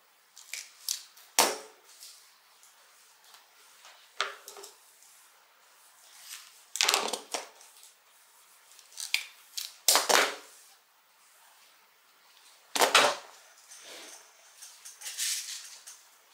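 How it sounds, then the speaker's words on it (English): Rivets are set into a quilted tote bag with repeated sharp tapping strikes, clustered into uneven bursts with short pauses between them, close and moderately loud, with no voices. "I'll set these rivets and then we will return and put the zipper pocket in on the other side"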